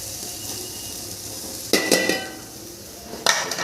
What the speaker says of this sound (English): So right now I'm going to add the potatoes.